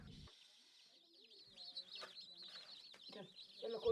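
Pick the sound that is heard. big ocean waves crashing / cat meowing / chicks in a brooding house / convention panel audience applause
chicks in a brooding house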